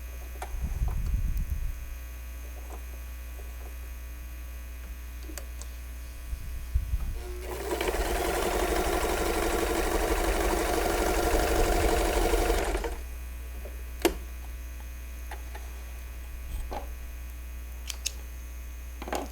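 A home sewing machine runs a tight zigzag stitch at 5 width and about 1.5 length, a steady mechanical whir lasting around five seconds, between quiet stretches with low mains hum and a few small clicks.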